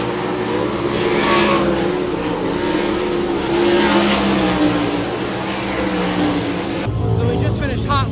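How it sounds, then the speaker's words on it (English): Sprint car racing engines roar at Florence Speedway during a Kentucky sprint event, a loud continuous snarl of several cars passing and revving, swelling and fading, with voices talking under the din and a shift in tone near the end. "One of the best things about sprint car racing is the noise."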